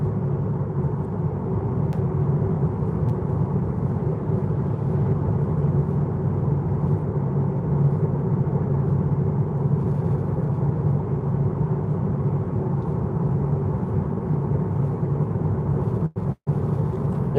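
Steady low-frequency road rumble and tire drone fill the cabin of a Tesla Model 3 Highland Long Range RWD while driving, a constant hum with a brief dropout near the end and no talking.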